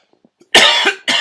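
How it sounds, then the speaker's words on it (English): One person coughs loudly and close to the microphone: a long, rough cough followed by a shorter second one, after a near-silent lead-in. "just a second, I have to cough"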